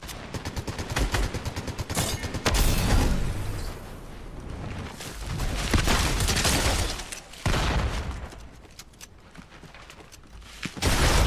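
Dense bursts of gunfire from the Fortnite video game, with rapid automatic fire and sharp single shots crackling loudly in waves, interspersed with heavier booms and short lulls.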